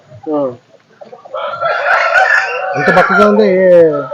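A fighting rooster crows loudly and close by, a long strained call following a brief cluck at the start.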